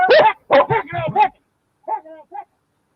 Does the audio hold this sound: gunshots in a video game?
no